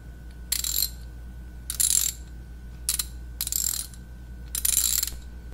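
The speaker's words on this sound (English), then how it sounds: "Then you have a ratchet." A ratchet wrench from a Hyper Tough emergency car tool kit, apparently with a 3/8 head, clicks in five short bursts of rapid ratcheting separated by brief pauses, close and fairly quiet over a low steady hum.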